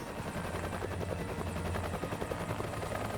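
A helicopter in the War Front: Turning Point strategy game thrums with steady rotor chop, a dense, continuous drone at moderate level with no talk over it.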